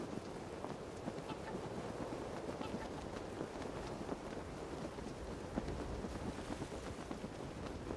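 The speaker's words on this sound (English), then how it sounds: "To the challenge of ice and cold, add another:" Steady winter wind in Yellowstone National Park, a continuous broad rushing roar with gusty texture and no distinct breaks, moderately loud throughout.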